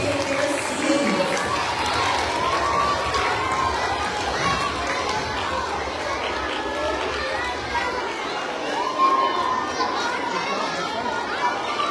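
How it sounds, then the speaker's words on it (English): A school's Friday assembly crowd cheers and claps for birthday students taking their seats, a loud, dense wash of children's shouts, chatter and movement filling the whole stretch. "Another round of applause as our birthday pioneers take their seats."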